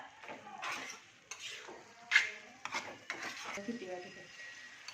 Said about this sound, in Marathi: आपली कोलंबी आपण अजून पाच मिनटं परतून घ्यायची आहे व्यवस्थित